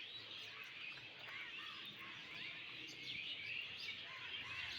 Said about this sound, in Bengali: পাখির শব্দটা এত দারুণ লাগতেছে